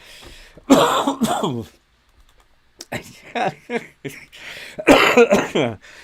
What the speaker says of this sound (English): every time I laugh I cough because of this chest infection